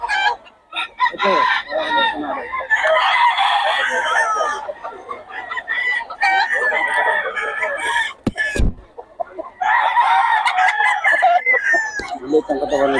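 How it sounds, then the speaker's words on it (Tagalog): A rooster crows loudly and close by in long repeated calls, with clucking between them, while people talk in the background at a market-style poultry sale. "Ang paipo yung manok."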